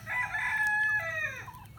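Chickens from a new flock and an established flock squawk and crow together as the pecking order forms, a loud, continuous overlapping chorus of raspy calls and drawn-out crowing, close by with no talk.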